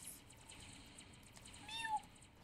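A cat toilet meows in the Roblox game Toilet Tower Defense, a single short, rising meow near the end over a faint game background.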